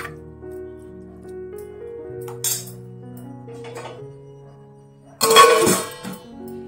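A metal lid set on a pot of flat bean and potato sabji simmering on low flame, one sharp clinking clatter near the end after a quieter stretch of faint kitchen tones and a brief earlier rattle.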